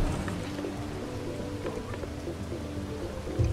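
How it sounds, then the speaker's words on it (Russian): Steady rain in Bugsnax patters over a broad hiss, with faint low rumbling and occasional soft drips; continuous and moderately loud, no voices. "Дождь начинается опять."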